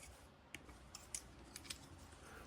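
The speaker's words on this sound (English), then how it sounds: "with a little scissors here to open some tape" Small scissors snipping tape on a toy box, several quick faint cuts in a quiet room, spaced irregularly over a steady low background hiss.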